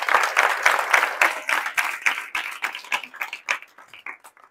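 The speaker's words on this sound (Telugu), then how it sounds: "క్లాప్స్ కొట్టండి ఆ పాపకు." Girls in a government SC welfare hostel applaud together, a burst of dense, fairly close clapping that thins and fades toward the end, with no talk over it.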